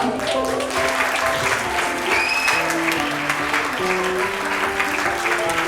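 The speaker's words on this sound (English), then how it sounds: "Round of applause for Freya." Audience applause at a Christmas party as a prize winner is honoured: a steady, dense wash of many hands clapping throughout, with a faint tonal line and some background voices mixed in.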